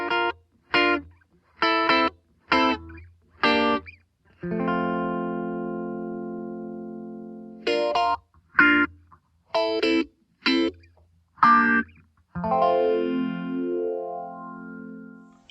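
A guitar with a phaser pedal plays short staccato chords and a sustained chord, first dry, then repeated with the phaser on, giving the final held chord a sweeping, swirling tone.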